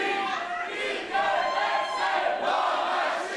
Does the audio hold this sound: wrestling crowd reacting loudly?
yes